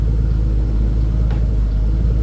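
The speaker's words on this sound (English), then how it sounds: "so now the car is idling" Nissan R32 GT-R engine idling steadily, a close, continuous low rumble with an even throb and no revving.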